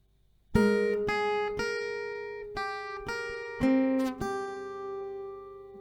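A riff plays slowly on an acoustic guitar as single plucked notes in a steady sequence. The strings ring bright and clear and close up, with no talking.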